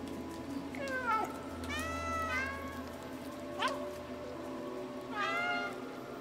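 A cat meows in the video game Stray: four clear, plaintive meows spaced a second or two apart, close and distinct over a quiet, humming background.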